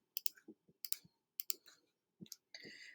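Keyboard keys clicking during typing, quick clusters of crisp keystrokes with short pauses between them, ending in a longer run of rapid clicks, fairly faint and with no talking.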